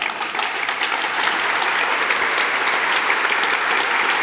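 An anniversary-ceremony audience claps warmly and steadily for the founders called up on stage, a dense, even wash of applause that holds loud and unbroken throughout.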